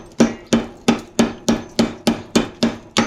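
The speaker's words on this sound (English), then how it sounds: "I bet we could hit it a couple times with the hammer and the steel will just crumble right off." A hammer repeatedly strikes steel to knock it off a brass pipe from a scrapped copper and brass float switch, giving nine sharp, evenly spaced metallic blows close by with no talking.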